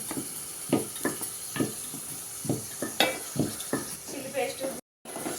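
Green chilli paste, onion and tomato are stirred and fried in a pan for a Telangana chikkudu kaya curry. A spoon scrapes in steady, repeated strokes over a constant close sizzle.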